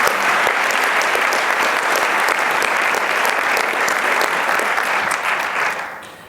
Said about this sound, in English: can I get a round of applause for everyone here on stage?